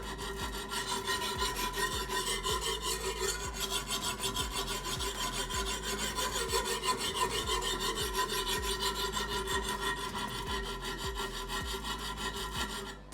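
Knife tip being sharpened on a Wicked Edge sharpening stone, a close, quiet rasping scrape repeated in quick regular strokes for the whole stretch with no talking.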